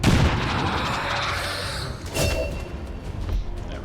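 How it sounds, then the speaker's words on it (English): Grenades exploding on a sectoid in XCOM 2: heavy booming blasts, a large burst followed by a second thudding detonation a couple of seconds later, loud and close. "2 grenades on sectoid, yep"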